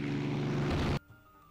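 Propeller aircraft in the naval warfare game Rule The Waves 3 drone loudly and steadily for about a second, then the roar cuts off abruptly into near silence.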